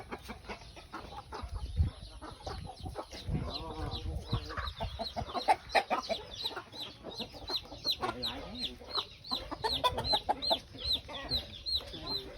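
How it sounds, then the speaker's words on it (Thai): Many chickens cluck and call around a rural village in the morning, a busy, overlapping chorus of near and far clucks with occasional crowing, and faint talk mixed in. "ไก่เยอะ"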